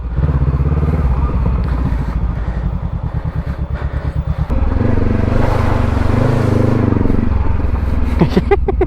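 A motorcycle engine chugs loudly right behind, its rhythmic putter steady then thickening as it revs, with brief clatter near the end on a riverside ride in General Nakar, Quezon Province.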